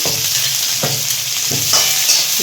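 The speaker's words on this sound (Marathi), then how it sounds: "कांदा भाजून घ्यायचा थोड़ा सा तेल टाकून घ्यायचं" Onion frying in a little oil in a hot pan for a village-style modak amti, a steady broadband sizzle with several soft stirring scrapes spaced through it, close and fairly loud, with no talk.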